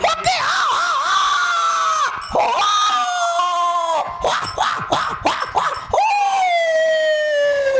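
Jackals howl in the jungle in a long, loud chorus of rising and falling wails that overlap and break off, then start again, close and piercing.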